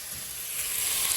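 Ginger sautés for Filipino papaitan, a brief steady hiss of sizzling oil that swells slightly toward the end.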